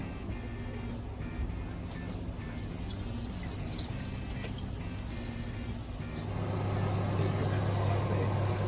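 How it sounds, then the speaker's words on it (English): Tap water running over kidney beans being rinsed and drained in a kitchen sink, a steady close wash of water that grows fuller and louder toward the end. "Now we're going to rinse and drain the kidney beans"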